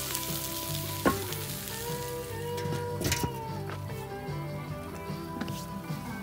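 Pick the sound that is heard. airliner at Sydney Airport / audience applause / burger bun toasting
burger bun toasting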